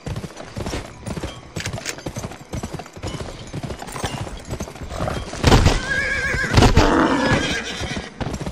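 Rapid hoofbeats of a galloping horse in a Wild West video game race, from the game Gun, thunder steadily, with loud whinnies breaking out near the end.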